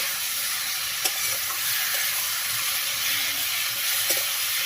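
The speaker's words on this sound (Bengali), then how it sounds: "ভেজে রাখা কাঁটাগুলো মশলার উপর ভালোভাবে সুন্দরভাবে নাড়িয়ে নিতে হবে" Fried bhetki fish bones are stirred into spices in a pan, giving a steady close sizzle with a few soft spatula scrapes and light knocks, no speech.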